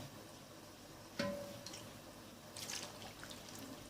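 Broth poured over stuffed zucchini in a cooking pot gives a faint, close trickle and light splashing with a brief clink near the start.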